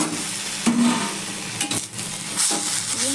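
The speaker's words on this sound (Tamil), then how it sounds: "இப்போ நம்ம தக்காளி இதில் ஆட் பண்ணுறோம்" Chopped onions and tomatoes sauté in a small amount of oil for a dried-shrimp gravy, a steady close sizzle broken by a few stirring scrapes and light utensil knocks against the pan.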